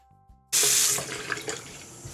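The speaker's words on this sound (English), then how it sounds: "so I'm going to wash my whole face now" A tap opens suddenly and water pours into a sink for face washing, a loud close hiss with splashing that softens slightly after the first half second.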